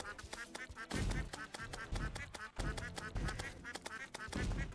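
Quacking slime enemies in the video game Terraria produce repeated loud, nasal duck-like quacks in rapid clusters, overlapping game effects and punchy hits at a steady, busy rhythm.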